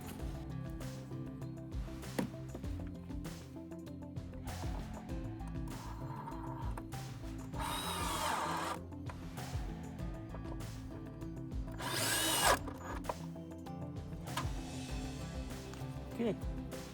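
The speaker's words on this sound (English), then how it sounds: "I'll just put in these screws and it'll be nice and level" A power drill drives screws into wood while support beams go up on an arched homestead cabin, giving repeated whirring bursts with clicks and clatter in between, heard close amid ongoing work noise.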